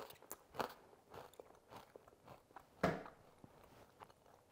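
Homemade one-ingredient Cheeto-style puffs being bitten and chewed up close, with several sharp crunches, one especially loud near the middle, then quieter chewing.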